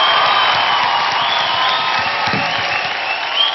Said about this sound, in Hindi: एक बार जोरदार तालियां हो जाए फंटूश के लिए